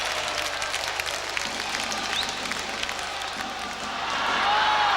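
Ice hockey crowd in a Manchester arena applauding, a broad steady wash of clapping and cheering from many people, swelling near the end, with a commentator talking over it.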